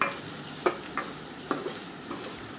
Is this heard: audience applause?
no